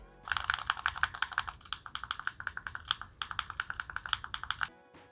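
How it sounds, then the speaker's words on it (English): Loud, sharp clicks from the trigger buttons of a PowKiddy RK2023 handheld game console, pressed in a fast, steady run of dozens of taps close to the mic with a brief pause midway, no talking. "You can add these triggers as an instrument in a band, and that's how loud and clicky they are."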